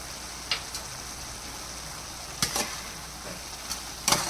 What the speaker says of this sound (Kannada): ಇದೊಂದು ಅರ್ಧ ಗಂಟೆ ಫ್ರೈ ಮಾಡ್ಕೋಬೇಕು